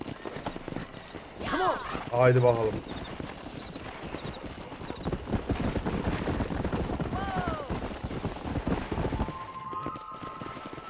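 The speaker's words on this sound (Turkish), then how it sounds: "Haydi atımıza binelim." Horse hooves clip-clop at a gallop in the Red Dead Redemption video game, a steady rhythmic pounding under game music and gunfire, with a neigh and people talking over it.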